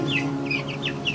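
Chickens at an animal sanctuary cluck softly and repeatedly, with several short rising calls in quick succession over a low steady background hum.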